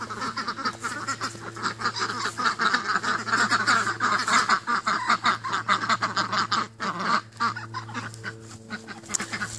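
A flock of ducks quacks continuously and loudly, many overlapping calls close by with no pauses.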